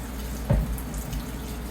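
Kitchen tap briefly running as hands are washed during cooking, a short close splash of water over a steady low background hum.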